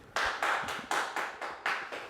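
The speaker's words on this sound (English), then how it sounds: "Everyone clap." A small group claps in the middle of the night, about eight sharp, evenly spaced claps in quick succession, close and clear with no talking.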